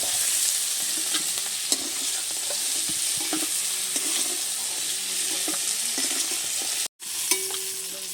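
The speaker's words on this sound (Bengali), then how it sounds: "চিংড়ি মাছটাকে খুব বেশি কড়া করে ভাজবো না, হালকা একটু নেড়ে চেড়ে ভেজে নিয়েছি" Prawns fry in hot oil in a pan while being stirred, giving a loud, steady sizzle with scattered scraping clicks and a brief gap near the end.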